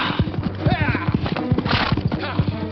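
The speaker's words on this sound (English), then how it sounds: "Horses!" Galloping horses with rapid, loud hoofbeats close by, mixed with whinnying and shouting voices.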